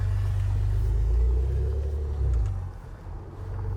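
A Porsche Macan Turbo Performance Edition with a 3.6-litre V6 and sports exhaust pulls away, its deep engine rumble steady and close, swelling briefly before easing off.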